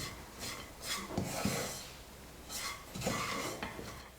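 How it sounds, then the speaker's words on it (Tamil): Grated coconut dry-roasting in a kadai over a medium flame on the stove, giving a raspy scraping and rubbing texture in several bursts as it is stirred, with no talk. "தேங்காய் சேர்த்து ஒரு 2 நிமிஷம் நல்லா நான் வறுத்துக்கிட்டேன்"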